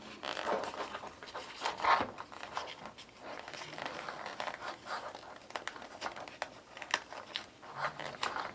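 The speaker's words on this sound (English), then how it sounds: "Put your zipper pull in," Soft, faint rustling and small clicks of a metal zipper pull being fitted onto a sewn garment, with fabric handling sounds and brief light scraping, mostly without talk.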